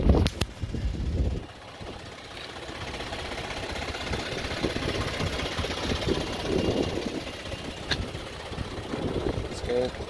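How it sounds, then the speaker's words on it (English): A Ford F-150 pickup with the EcoBoost engine, from 2012, idling with a ticking that is a little louder than normal. The steady engine rumble sits under outdoor wind noise, with no talk. "it seems a little louder than normal on this EcoBoost in particular."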